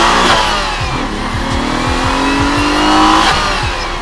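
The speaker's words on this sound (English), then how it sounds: "if you let off the clutch here and get in the gas, it's gonna let the wheels loose very easily" A Nissan 300ZX Turbo accelerates hard through the gears, its engine rising in pitch and dropping with each quick shift, loud and close with a faint tire squeal.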